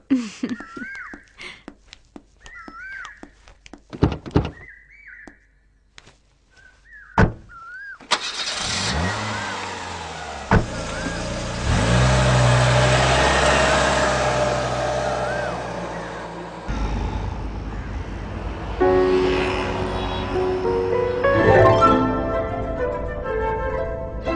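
A car engine cranks and catches after a few quiet sounds, then idles and runs steadily and loud nearby, its tone shifting partway through, with no talk over it.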